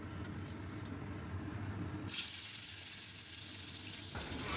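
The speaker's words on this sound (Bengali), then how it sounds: "ভেজে রাখা আলু তুলে নিয়ে ওই বাকি তেলেই আমি কেটে রাখা বেগুনগুলোকেও অল্প ভেজে নেব।" Cut brinjal pieces lightly frying in leftover oil in a pan, giving a soft, continuous hissing sizzle that swells to a brighter, louder hiss midway.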